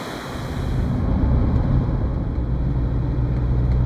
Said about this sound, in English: there's these waterfalls here flowing down